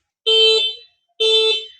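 Two loud electronic horn beeps from an electric scooter, each about half a second long, separated by a short pause, with nothing else around them.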